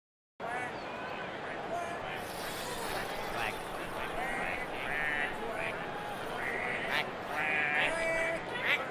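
A crowd chant for the Green Ducks marble racing team mixes singing voices with duck-like quacking calls, busy and layered, growing louder toward the end.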